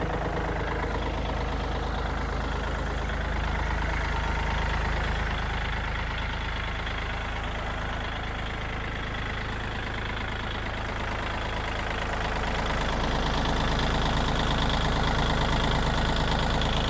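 A 2020 Kubota 40 hp tractor with its original engine and pump idles steadily for the whole stretch, a loud, close, continuous low diesel rumble with a faint knock and no speech over it.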